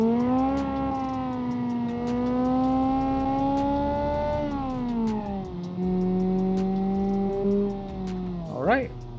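Car engine in BeamNG.Drive revving up and holding a loud, rising drone, dipping midway as it shifts, then climbing again, with a brief squeal near the end.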